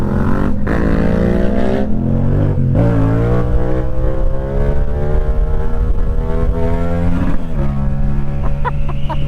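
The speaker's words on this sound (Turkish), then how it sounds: "Uy egzoz nasıl patlıyor görüyor musun?" A Yamaha MT-07 motorcycle on the road, its engine droning loudly with shifting revs and sharp exhaust pops and crackles between gear changes, wind noise over the whole stretch.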